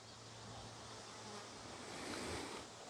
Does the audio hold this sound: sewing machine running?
no